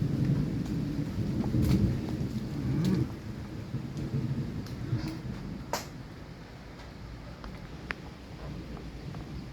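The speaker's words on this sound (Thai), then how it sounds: "ดูเสียงฟ้าร้องสิ น่ากลัวจริงๆ พายุฤดูร้อน" Deep rumbling thunder rolls through a summer storm, loudest early on, with steady rain and a few sharp crackles over a low continuous roar.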